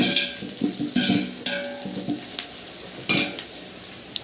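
Whole spices frying in a pot for dum biryani, close steady sizzling punctuated by several bright spoon scrapes and clinks against the pot.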